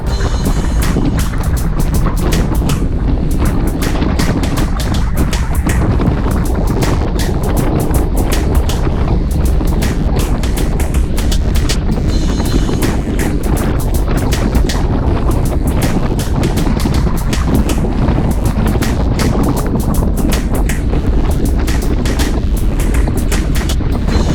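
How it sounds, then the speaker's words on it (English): Strong headwind roars across the microphone as a cyclist rides directly into it on a group ride near Lake Conroe, a loud, constant buffeting rush that continues without letup and with no voices. "We're going directly into the wind."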